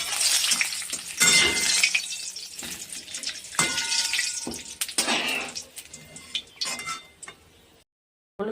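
Papads fry in hot oil in a home kitchen, with crackling sizzles and bursts of bubbling plus occasional clinks of utensils, close and continuous until a brief cut near the end.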